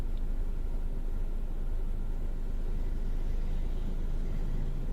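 A car cruises through the town of Roquetas in Almería, with a continuous low road rumble and engine drone from inside the vehicle, steady throughout and with no talk.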